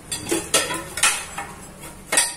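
Cashews and charoli are sautéed in a pan while a spoon stirs them, making a few close, bright scrapes and clinks in a loose rhythm of about four strokes, without any voices.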